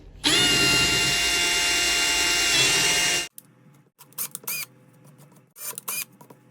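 A power drill fitted with a 5mm bit runs steadily at high speed for about three seconds, opening pilot holes for a car number plate, then stops; quieter clicks and short mechanical bursts follow.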